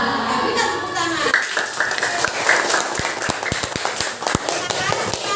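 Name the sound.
classroom clapping for a student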